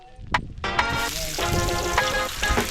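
Bamboo shoots sizzle in hot oil in a pan, loud crackling and spitting bursts up close that swell and fade irregularly as the food is stirred.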